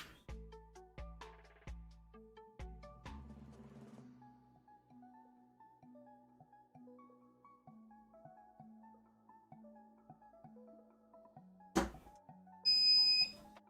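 A Creality 3D printer gives a string of short electronic beeps at a steady rhythm, followed by a held tone pattern, then a louder burst of noise near the end; nearby and fairly clear, with no talking.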